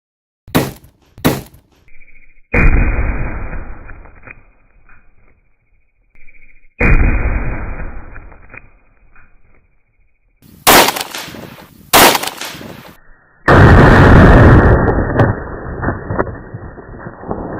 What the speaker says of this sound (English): this was the 7mm Valkyrie. It was supposed to be the 500-yard shot